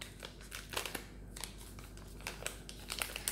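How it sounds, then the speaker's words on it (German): Close, quiet crinkling and tearing of a small car air freshener packet, a run of soft rustles and crackles with no talking. "jetzt mache ich euch doch mal da so ein Tütchen auf."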